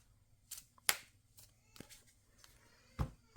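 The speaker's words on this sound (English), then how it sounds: "Shuffle my deck." A deck of Animo trading cards is shuffled by hand at a table during solo play, giving a few scattered, soft riffling and tapping bursts with short quiet gaps between them.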